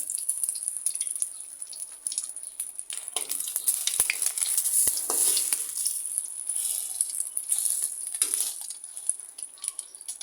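Bread mixture frying in a pan on a stove, a steady faint hiss and crackle of sizzling oil with occasional light scrapes, continuous with no talk.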